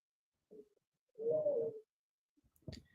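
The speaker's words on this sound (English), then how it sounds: "Is there like a bird or an owl or something?" A bird or owl calls outside, with a short soft note followed by a longer, louder cooing hoot, then a faint knock at the end, heard in an otherwise quiet room.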